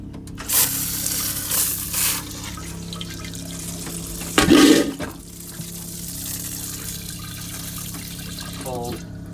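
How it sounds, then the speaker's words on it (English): Running water hisses and splashes steadily in a boat's tiled shower, with a louder burst of splashing midway and some background voices. "So we get the shower water."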